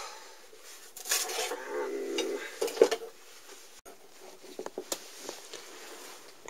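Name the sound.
emptying the ash pan of a narrowboat stove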